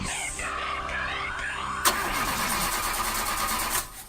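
A car engine cranks and catches as a radio ad sound effect, the starter whirring before the motor fires with a sharp burst and settles into a steady mid-pitched idle, loud and alone.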